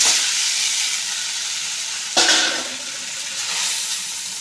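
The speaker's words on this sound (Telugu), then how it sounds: "కలుపుకున్నాక బాగా వేగనిద్దాం మెత్తపడిపోవాలి ఇవి టమోటాలని" Tomatoes fry with boiled Maggi noodles in a pan, a loud, continuous sizzle with a brief stirring burst midway and steady crackling throughout.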